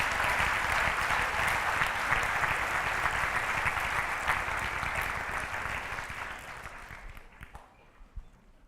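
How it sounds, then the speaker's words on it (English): Young people at a fall leadership academy give a round of applause to advisors and teachers, dense steady clapping from a large room that tapers and thins out near the end. "Young people, give them a round of applause."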